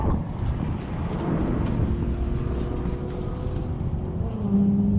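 Race car engine in a racing video game during a spin, a broad rumbling roar with faint tonal whine that dips and then swells near the end, no talk.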